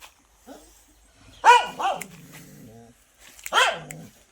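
A farm dog barks in a few sharp bursts with some growling, fairly close, in a quiet rural setting with brief gaps between barks.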